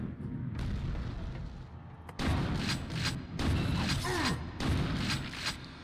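A grenade blast in the shooter Quake II: Ground Zero, with heavy booms and clattering bursts striking several times in quick succession over a low rumbling background.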